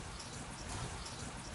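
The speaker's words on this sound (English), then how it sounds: "Did I mention it rains a lot in Oregon?" Steady rain falling outdoors in Oregon, a dense continuous hiss of drops on surfaces with no break or voices.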